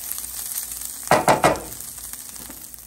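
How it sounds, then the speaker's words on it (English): Fried bacon and onions tip into a pot of Polish sour rye soup (żurek), giving two or three quick splashing sizzles close by, then a quiet simmering hiss. "And now I'm adding the fried bacon and the onions to the soup."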